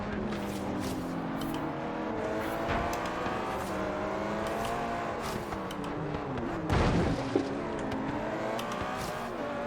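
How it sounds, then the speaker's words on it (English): A Bentley racing engine in Forza Horizon 3 roars loudly and continuously, revving and shifting through gears with rising and falling pitch, a brief burst near the end, and no talk over it. "Oh, that Bentley sounds great. Loving those engine noises."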